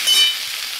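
Potato, pointed gourd, carrot, beet and capsicum fry in a pan with a bright, steady sizzle that is close and loud, heard alone for a brief moment.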